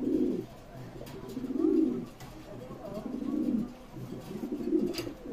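A male racing pigeon coos to a newly introduced female as the pair bond, producing four low, rolling coos in a steady rhythm, close and clear, with faint background chirps.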